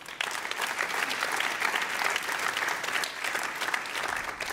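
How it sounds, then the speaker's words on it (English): Dense, steady audience applause at a business leaders' collaboration forum on clean tech, sustained loudly for several seconds without speech. "Big round of applause and a big thank you"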